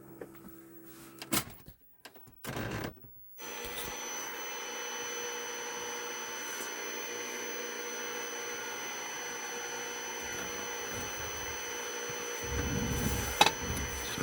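A Coleco Adam computer's printer runs noisily with a steady, whirring mechanical drone that holds for about ten seconds. It follows a few short knocks and a brief burst near the start, and a low rumble joins near the end.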